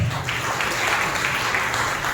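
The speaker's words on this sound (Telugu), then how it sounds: "చప్పట్లు కొట్టి ప్రభువును మహిమపరచండి" A church congregation applauds, a dense, continuous burst of clapping from many hands that holds at an even loudness for a couple of seconds.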